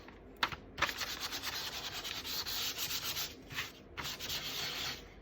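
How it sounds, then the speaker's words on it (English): A craft project being sanded by hand, a close, continuous rasping rub in long strokes with a few brief pauses, fairly quiet and without talk. "So I'm just going to give it a bit of a sand."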